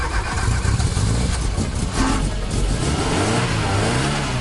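A Peugeot 205 Turbo 16 Série 200 with a 1.8-litre four-cylinder engine catches and revs hard, a loud, close, continuous engine roar that rises and falls in pitch through repeated throttle blips, with no talking.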